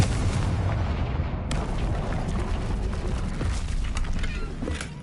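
A Confringo fire spell in the Hogwarts Legacy video game lands as a dense, rumbling blast, followed by a sharp crack and a sustained roaring burn with scattered crackles.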